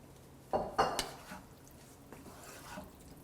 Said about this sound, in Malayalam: ഇനി ഇതിലോട്ട് നമ്മൾ കട്ട് ചെയ്ത് വെച്ചിരിക്കുന്ന ചിക്കൻ പീസുകൾ ആഡ് ചെയ്ത് നന്നായിട്ട് മിക്സ് ചെയ്യുക